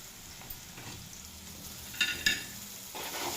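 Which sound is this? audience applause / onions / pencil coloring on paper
onions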